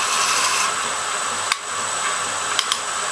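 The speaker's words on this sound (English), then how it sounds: "using a piece of steel to demonstrate. I'm going to go to the 4-inch wheel" Steel being ground against a 4-inch grinding wheel, giving a steady, harsh hissing rasp throughout, with a few brief sharp clicks along the way.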